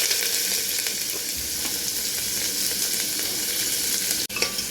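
Whole peppercorns and whole garlic cloves sizzle in hot white oil for chicken stew, giving a steady, close, hissing fry throughout with no talk. One brief dip in the sizzle comes near the end.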